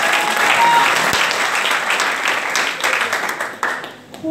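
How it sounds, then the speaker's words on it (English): A church congregation claps loudly and steadily through a Sunday service testimony time, a dense wash of many hands that thins out toward the end. "Oh, clap unto the Lord for their life."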